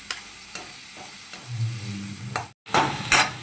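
Onion fries in a pan with a steady hiss and crackle, broken by a few clicks of a stirring spoon on the pan and one brief cut to silence before the sizzle comes back louder.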